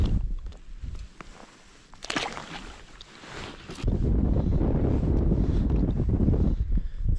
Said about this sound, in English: It's getting windier.